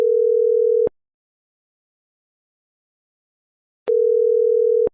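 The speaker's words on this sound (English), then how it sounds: "Place a call to James at extension 3330" Call tones from a Mitel 5360 IP phone placing a call: a steady, loud ringback tone sounds for about a second, falls silent for roughly three seconds, then repeats once.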